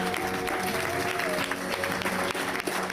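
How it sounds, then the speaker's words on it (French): An audience claps warmly for the mayor of Domblanc at an evening event's opening, a dense, continuous round of applause with a faint tonal hum beneath it. "qu'on peut applaudir très fort"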